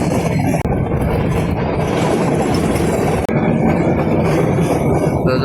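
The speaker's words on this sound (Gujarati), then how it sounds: "તો જો આ રીતની રસ્તામાં ઘણી વખત ટ્રેન ધીમી પણ પડે છે અને ઘણી વખત ઊભી પણ રહી જાય છે" A meter gauge train runs toward Sasan Gir, heard from on board: a continuous loud rattle of wheels and carriages with clicking rail joints and occasional metallic clinks, steady throughout.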